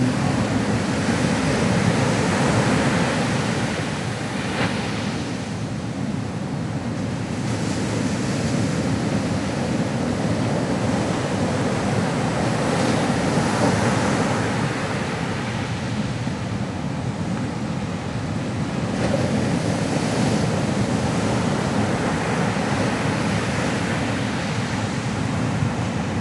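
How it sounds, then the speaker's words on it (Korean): Ocean waves break and wash steadily onto a shore, a continuous loud roar of surf with gentle swells in intensity and no voices. "파도 소리가 들린다."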